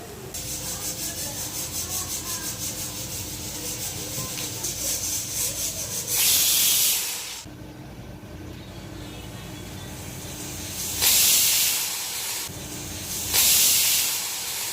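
A pressure cooker cooking lentils lets off loud bursts of hissing steam three times, each lasting about a second, over a steady background with faint tonal sounds.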